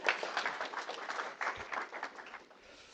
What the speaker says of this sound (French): vous pouvez applaudir maintenant